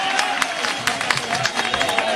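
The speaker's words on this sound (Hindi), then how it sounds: "जरा जोरदार तालियों से उनका स्वागत करें आप" Crowd at a Congress party political rally in Madhya Pradesh applauding a welcomed leader, a steady wash of clapping with sharp individual claps standing out, moderately loud throughout.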